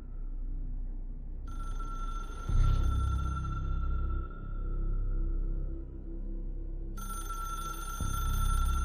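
An old telephone rings in the video game Control: two long electronic ringing tones with a pause between them, heard over a low rumbling game ambience with occasional thuds.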